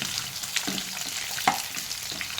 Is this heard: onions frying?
yes